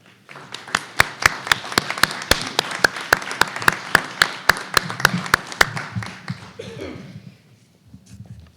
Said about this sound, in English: And will you please help me join in giving them a round of applause?